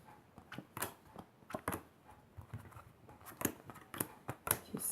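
Playing cards being shuffled by hand, a quick run of light, crisp snaps and flutters at an irregular rhythm, close and fairly quiet with no talk.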